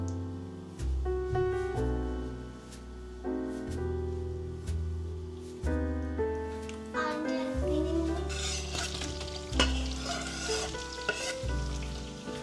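Onions roasting in a tablespoon of butter in a pan on the fire: a soft sizzle and stirring scrape sit under prominent melodic background music, swelling briefly near the end.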